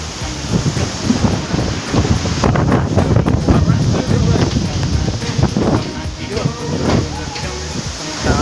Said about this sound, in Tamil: திடீர்னு பார்த்தீங்கன்னா காற்று அடிக்குது பாருங்க